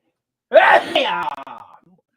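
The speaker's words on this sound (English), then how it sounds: "I got to sneeze. It's coming." One sharp, loud sneeze close by, bursting out suddenly and then trailing away with a short breathy tail.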